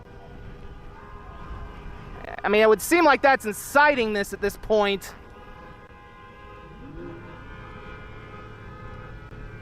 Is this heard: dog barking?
no